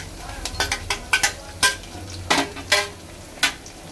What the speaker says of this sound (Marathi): आता आपण याच्यात टाकूया लसूण। लसूण टाकून मस्त लाल करून घेऊया।